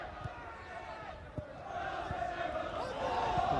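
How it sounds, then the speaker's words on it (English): Sellout all-ticket football crowd of just over 4,000 at Shielfield Park, Berwick, during Berwick Rangers against Glasgow Rangers in 2012: a steady murmur of crowd noise that swells, with scattered shouts and thuds, under a commentator's voice. "A sellout all-ticket crowd here at Shield."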